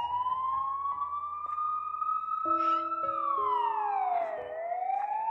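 The Siren Head creature in Minecraft Pocket Edition gives a loud wailing siren with a sliding pitch and steady overlapping tones, heard alone without talk.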